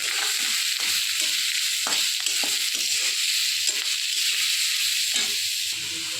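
Carrots and chopped onions frying in a kadai give a loud, continuous close sizzle and hiss, with stirring scrapes breaking through in irregular bursts and no voices.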